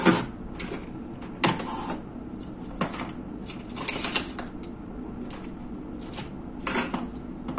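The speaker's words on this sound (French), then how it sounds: "je vais mettre des petites pinces" Small clips snapped onto a paper scrapbooking tag give a series of sharp, light plastic clicks and clacks, irregular and close, with faint handling rustle between them.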